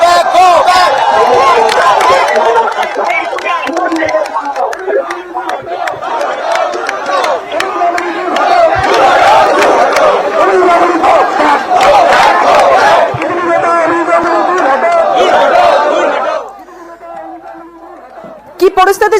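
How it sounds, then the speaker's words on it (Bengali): Junior doctors from R G Kar Hospital protesting at Lalbazar, a loud dense crowd chanting a "go back" slogan at a BJP MP, shouting voices rising and falling steadily before the crowd noise drops near the end. "BJP সাংসদকে go back slogan junior ডাক্তারদের"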